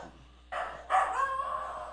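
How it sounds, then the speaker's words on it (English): Dogs barking in the video game DayZ, a few close yelps and barks in quick succession over a quiet background. "Quit barking!"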